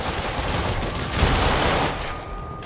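Dense, continuous gunfire fills a night-time combat scene in the Spider-Man video game on PS4. It rattles as a steady volley throughout, swells briefly in the middle and then eases slightly.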